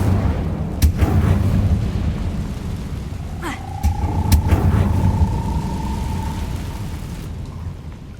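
In Hogwarts Legacy, the Incendio fire spell is cast with a loud, rumbling rush of flame, a few sharp cracks and a brief rising tone over continuous game noise.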